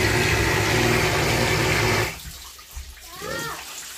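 2-inch submersible pump in a 250-foot-deep well, combined with a shallow pump motor, loudly gushing water for two seconds before cutting off, leaving quieter sloshing and gurgling.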